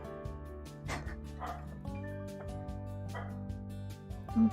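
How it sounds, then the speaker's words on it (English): A dog barks several times in short yips over a steady tonal, music-like background hum. "Barking."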